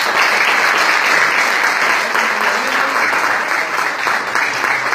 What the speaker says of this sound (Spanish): Un aplauso, compañeros.